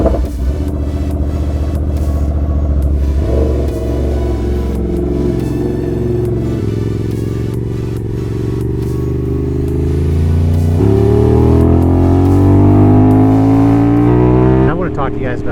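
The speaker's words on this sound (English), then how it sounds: "We're going to take the Aprilia out for a ride and show her some love" An Aprilia motorcycle engine drones steadily on a ride, its pitch sliding up and down through gear changes and throttle shifts, loud and continuous with wind rush, with someone talking over it.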